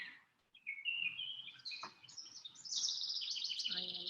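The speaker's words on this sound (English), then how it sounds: "I am surrounded by bird sounds." Birdsong fills an outdoor setting during a calm qi-gong session on a soft, breezy day: bright chirps and tweets overlap almost continuously, some close and clear, others layered behind, with no talking.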